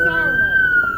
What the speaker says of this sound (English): Hey, please get that siren shut off